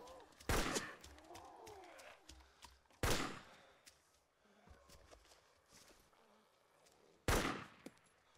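Gunfire in the video game DayZ: three sharp, loud shots spaced a few seconds apart, each with a short echoing tail, amid quiet footsteps and faint rustling in between.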